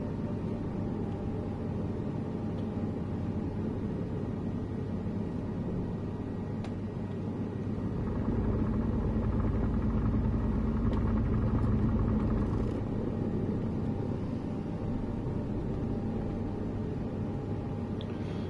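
Steady low engine rumble of a search and rescue helicopter in Microsoft Flight Simulator 2024, droning continuously and swelling louder for a few seconds midway before settling back, with no talking.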